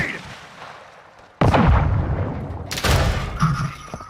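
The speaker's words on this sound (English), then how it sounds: "Throwing grenade!" A thrown grenade explodes in Call of Duty DMZ: two sharp, loud close blasts about a second apart with rumbling decay, following a quiet stretch.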